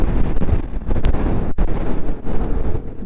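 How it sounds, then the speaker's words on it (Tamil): Cold wind buffets the microphone on a steep mountain road on the way to Leh, with mountains on both sides, making a loud, continuous gusty rumble with one brief dropout in the middle. "காற்று சரியாக அடிக்குதுங்க."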